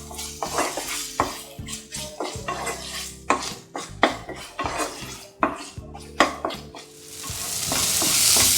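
About fifteen cashews are sautéed in a pan for mushroom masala, with rapid repeated scraping and clinking of a utensil stirring against the pan over a steady sizzle, ending in a louder continuous hiss.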